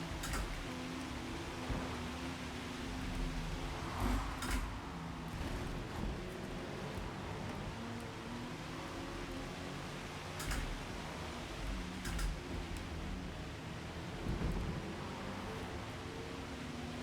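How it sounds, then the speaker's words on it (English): Steady thunderstorm rain hisses in a Nürburgring racing video game while a pre-war Auto Union race car drives in the wet, with a continuous engine drone underneath and a few brief louder swells. "Looks like we've got all of Thunderstorm going on."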